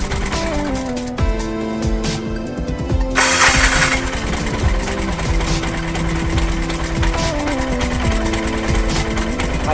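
A Bajaj RE CNG auto rickshaw engine being started, a brief cranking burst followed by the small engine catching and running with a steady, buzzing, near rumble, with no talk.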